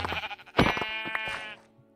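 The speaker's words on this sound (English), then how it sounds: "Oh, I already hear a sheep." A sheep bleating in the Minecraft video game, one loud, close, wavering bleat lasting about a second, preceded by faint game sounds and then fading to quiet.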